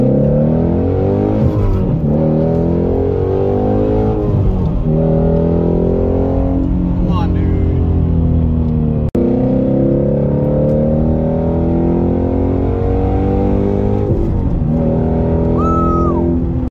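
A sports car, one of a brown twin-turbo Corvette C8, McLaren 570 or Corvette C7 Z06, revs and accelerates loudly and close by, with repeated rising engine sweeps and gear changes, and no talk.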